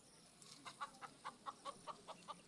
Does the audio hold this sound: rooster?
yes